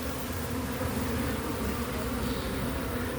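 Bees swarming in a water meter box, a dense continuous buzz heard up close and steady throughout, with no voices.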